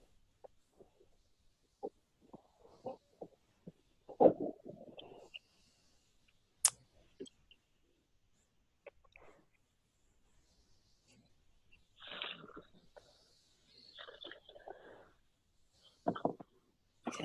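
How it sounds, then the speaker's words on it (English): Scattered sharp mouse clicks on a computer during an online screen-sharing session, arriving singly and in short bursts amid long quiet gaps, with faint voice-like sounds now and then. "I'm clicking all around trying to find it."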